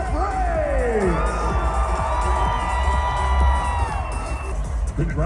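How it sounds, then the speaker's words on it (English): Stadium crowd at a Bristol racetrack baseball game applauding and cheering the winning Atlanta Braves, a loud sustained roar with whoops, shouts and clapping, joined by a ringing horn or siren tone partway through. "how about a big round of applause for our winners, the Atlanta Braves!"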